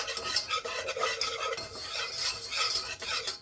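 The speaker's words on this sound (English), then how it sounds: "roux is almost ready. Keep stirring her." A spoon stirring a roux for mac and cheese in a pot, steady scraping and faint sizzle in quick repeated strokes, close and fairly quiet with no talking.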